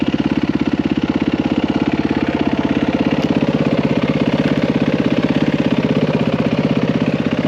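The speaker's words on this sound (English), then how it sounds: "I always like to leave my bike running." Yamaha WR450 dirt bike engine idling steadily and close, a continuous even low putter with no pauses throughout.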